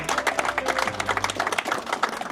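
An audience at a real estate conference applauds with a dense patter of many hands clapping at once, sustained and fairly loud, with a low hum beneath it.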